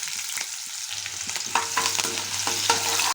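Onions and green chillies sizzling in hot oil in a pan, spices already added, with a steady close frying hiss broken by a few scraping stirs and no talk.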